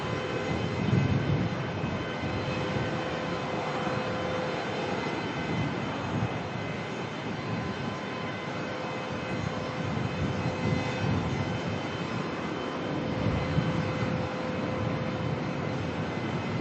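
Jetstar airliner engines idling on the ground at Melbourne airport, a steady close whining drone with a sustained tonal hum and low rumble, no talking.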